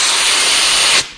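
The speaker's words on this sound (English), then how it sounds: "we just used compressed air to pop them out. And we're going to do the same thing here" Compressed air blasts into a Porsche 924 Turbo brake caliper to pop the pistons out: one loud, steady, close hiss for about a second that cuts off abruptly.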